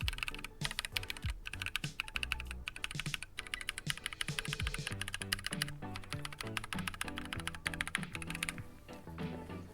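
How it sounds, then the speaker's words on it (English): Rapid, steady typing on a Vixen prototype mechanical keyboard, with dense, even keystrokes and occasional heavier thocks, sounding solid and close with no case ring. "the typing experience, like, it's very consistent, like key to key"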